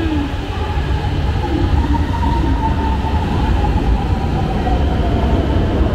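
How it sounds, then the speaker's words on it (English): A Hanoi metro train rides along with a steady loud rumble and rolling wheel noise, a faint rising whine threading through, heard from inside the carriage without any talk. "We were waiting for them to open this metro the whole time we lived there."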